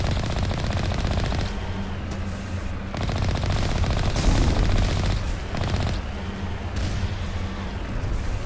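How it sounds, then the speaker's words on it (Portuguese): Machine gun fire in the Mass Effect video game on PS5, long loud rattling bursts of rapid shots with brief pauses between volleys. "Para de atirar em mim."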